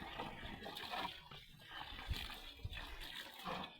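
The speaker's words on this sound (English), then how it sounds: "You make sure you water it evenly" Water is poured steadily over a young avocado seedling, about 20 liters given evenly, a continuous splashing and gushing wash close by with a couple of heavier thuds.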